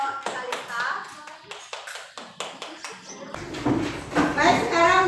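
A classroom group applauds a student group's presentation on sustainable living, scattered sharp claps at first that build into fuller clapping mixed with children's voices.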